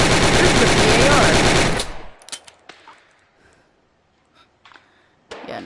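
A 1918 BAR automatic rifle firing a sustained, loud full-auto burst for almost two seconds, then falling quiet apart from a few faint clicks and handling noises.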